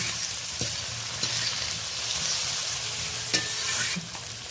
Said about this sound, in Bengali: বেশ কিছু সময় ধরে তিন চার মিনিট ধরে ভালো করে নাড়াচাড়া করে নেব যত সময় না কাঁচা ভাবটা চলে যাচ্ছে